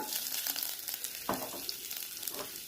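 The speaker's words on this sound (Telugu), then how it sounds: "అలాగే సన్నగా తరిగిన వెల్లుల్లిపాయలు, ఉల్లిపాయలు ఇవి వేసుకొని వేయించుకోవాలి." Chopped ginger, garlic and onions fry in oil in a pan with a continuous close sizzle, broken by a few brief clinks and scrapes of stirring.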